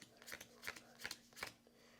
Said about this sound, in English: grab the regular monster cards, shuffle them up, and deal out 7 of those.